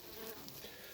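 Honeybees buzz in an opened hive with a dense, continuous hum, faint and steady throughout.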